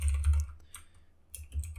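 Quick bursts of keystrokes on a computer keyboard while writing code, close and crisp with a short pause in the middle before the tapping resumes.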